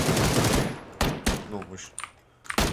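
Rapid bursts of gunfire ring out in PUBG, with a loud volley at the start and sharp isolated shots after, while a voice speaks briefly between them.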